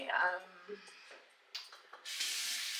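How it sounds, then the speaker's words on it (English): A few soft murmured sounds, then a short burst of misty hissing from a spray bottle wetting hair near the end. "My spray bottle is for hair."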